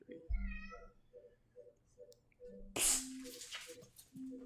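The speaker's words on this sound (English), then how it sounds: "Cat's freaking out." A domestic cat gives short, repeated meows, faint and somewhat distant, followed by a sudden louder burst of noise; a person talks quietly in the room.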